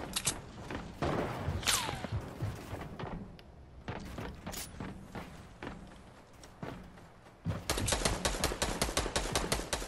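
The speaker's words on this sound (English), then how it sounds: "They're shooting at him, though." Gunfire in a multiplayer shooter game, with a burst of rapid, evenly spaced shots near the end and scattered sharp reports and thuds earlier, mixed with faint game ambience.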